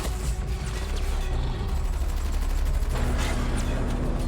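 Sustained gunfire from a superhero TV drama scene, a dense, loud barrage of shots rolling on continuously throughout, with booming low rumble underneath and no voices.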